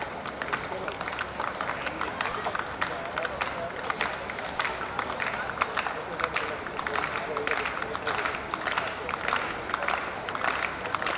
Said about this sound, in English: this crowd gets into the act. She started it by telling the crowd, I want you to cheer me.